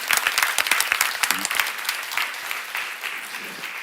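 A church congregation claps during a sermon, a burst of fairly close hand claps that thins out over a few seconds.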